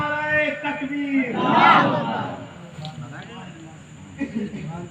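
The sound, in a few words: crowd shouting in response to Takbir slogan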